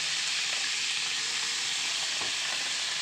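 Spice paste for butter chicken hitting hot oil in a pan, giving a steady broadband sizzle that holds evenly throughout with faint scrapes of stirring, close and fairly quiet, no voices.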